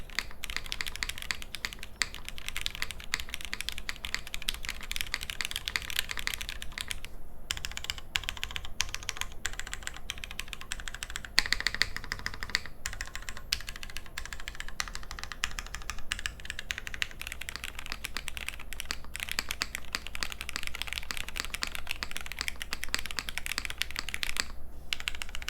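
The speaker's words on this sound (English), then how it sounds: "the Tiger 80 Lite, the plastic brother of the Tiger 80 aluminum, sounds better than the aluminum." Continuous typing on a Tiger 80 Lite, a budget mechanical keyboard with a plastic case, giving a steady stream of quick key clacks at close range for the whole stretch, with no voice over it.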